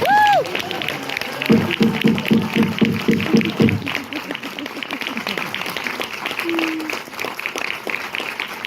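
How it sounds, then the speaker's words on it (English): A studio audience gives a round of applause for young actor Elliott Heffernan, the clapping a rapid patter that runs steadily while voices talk nearby. "ladies and gentlemen, Elliot Heffernan, let's have a round of applause"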